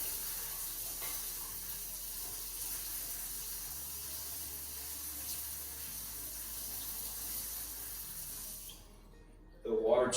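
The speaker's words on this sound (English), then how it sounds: "water's flowing in the unit right now, and we'll put some water in this bowl" Water from a tap runs steadily into a bowl during a demonstration of a ZoJacks water-leak shutoff unit, a soft continuous hiss of flow that stops near the end, followed by a brief clatter.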